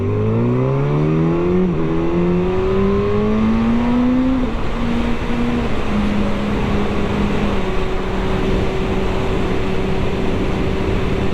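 A Kawasaki 636 motorcycle is ridden along quiet streets, its engine droning loudly and close as the pitch climbs through a few gear changes, then holds a steady cruising hum with no talk.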